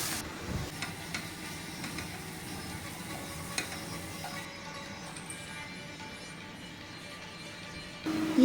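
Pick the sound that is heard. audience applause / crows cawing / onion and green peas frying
onion and green peas frying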